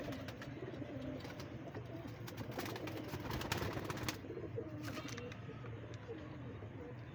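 A pet pigeon coos nearby in soft low rolling calls, repeated over a steady room and outdoor background with faint traffic.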